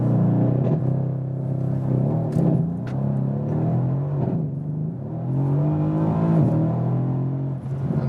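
A Mercedes C-Class Coupé engine revs hard at a race start, with a loud, sustained roar that rises and falls continuously and close by, with no talking.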